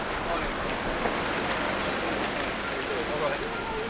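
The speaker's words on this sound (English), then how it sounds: "it most definitely is raining" Steady rain patters and hisses across a surface in Cornwall, England, a continuous wash of drops with faint voices in the background.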